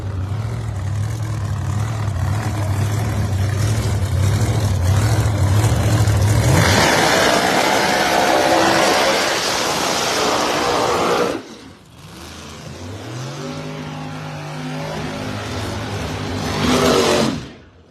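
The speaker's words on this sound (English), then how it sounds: "Brian Schrader far lane in a nitrous powered machine" Drag racing cars at the strip, one of them nitrous powered, roaring loud and close with a long sustained engine blast that surges and then drops away, followed by further rising engine tones. No one speaks.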